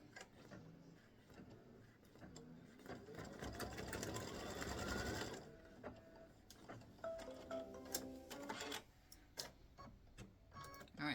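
An embroidery sewing machine stitches a small circle on an embroidered greeting card, a dense rapid mechanical chatter building for several seconds, then stopping into lighter ticks and clicks nearby.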